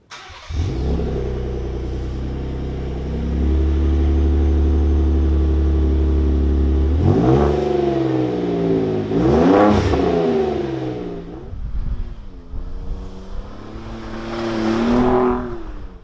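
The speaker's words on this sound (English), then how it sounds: "let's hear how this Flowmaster catback sounds" A Ford F-150 Raptor's Flowmaster FlowFX 3-inch cat-back exhaust starts at a deep idle, then revs repeatedly in loud, rising bursts with a throaty rumble between each blip.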